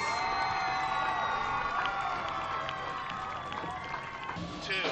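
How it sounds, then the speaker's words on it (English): Stadium crowd cheers and applauds for a high school marching band at a Woodbridge High School football game, a steady, loud wash of noise with scattered whoops and shouts. "One final applause for the class of 2015, our marching Barrons."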